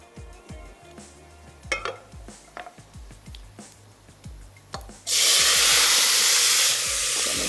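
Fennel seeds hit hot ghee in the base of a cooking pot, with light clinks and stirring, then a sudden loud, steady sizzle that carries on to the end.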